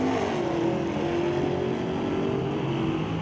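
A Mercury Cyclone drag race car at an NHRA Northwest National Open Series pro race, its engine holding a loud, steady roar with a droning pitch throughout, heard from trackside without any voice.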